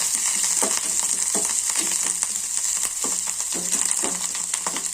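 Sabudana chivda with coriander frying in a pan, a steady close hiss of sizzling oil broken by regular scraping strokes as the mixture is stirred, with no voices.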